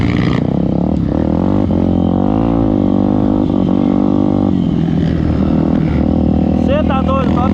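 Honda Twister trail motorcycle at a trail club gathering, engine revving through rising and falling pitch sweeps, loud and close, then pulling away, with brief overlapping speech near the end.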